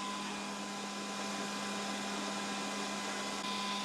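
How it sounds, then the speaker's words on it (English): Cooling fan of a ToAuto A1X PRO PCP compressor running steadily after being hooked to power, a constant close whirring hum with a faint tonal whine, unbroken and without talk. "as soon as we hook up to power, the fan will start running"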